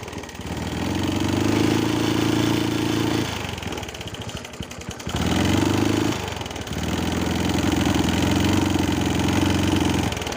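A Honda Wave 125s motorcycle engine with a fault that stops it accelerating, revved hard in two sustained bursts with a dip between, the steady drone never climbing higher.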